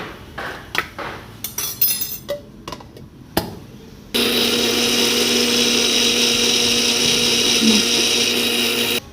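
An electric mixer grinder blending ginger, garlic and green chilies into paste, a loud, steady whining motor drone held for several seconds after a stretch of clattering and knocking.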